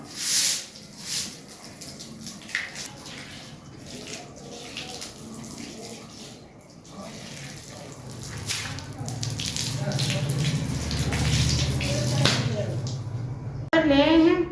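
Water splashes and runs across a sandy veranda floor during a home wash in sunny weather. The sound is intermittent at first and then becomes a steadier rush that grows louder, with a voice speaking over it at times.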